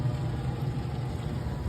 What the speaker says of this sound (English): It's pumping it through the impeller and pressure as water is going over here, and you can hear it coming down this drain here.